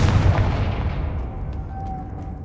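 A Confringo fire spell explodes in Hogwarts Legacy: one loud, broad blast that rumbles and slowly decays over a couple of seconds, with no talking.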